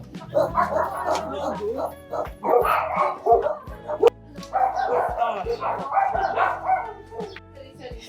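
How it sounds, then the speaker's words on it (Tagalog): At an outdoor cafe, several dogs bark and yip in quick bursts close by, with whimpers between them, while people talk over the barking. "Dogs."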